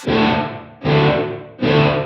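Electric guitar through a Line 6 Helix Dynamic Ambience reverb set to 50 ms pre-delay, three loud sustained notes struck about 0.8 seconds apart, each with a dense, slightly distorted wash that rings and decays before the next hit.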